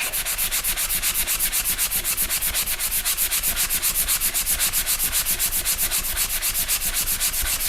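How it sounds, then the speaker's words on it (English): Drywall joint compound hand-sanded with medium coarse grit paper: a steady, fast back-and-forth rasping scrape, evenly rhythmic strokes repeating without pause, loud and close, with no voices. "let's see what it takes to sand it down. I got a medium coarse grit here."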